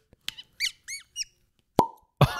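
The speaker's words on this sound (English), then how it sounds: "there is nothing like that first cork pop" A cork pops from a bottle of Redbreast 12 Year Cask Strength Irish whiskey: a few squeaky twists of the stopper, then one sharp, close pop, followed by a brief hollow ring.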